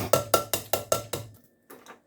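A spoon stirs beef vegetable soup thickened with cream corn in a pot. Six sharp, evenly spaced metallic clanks land against the pot, then a pause and a couple of softer scrapes.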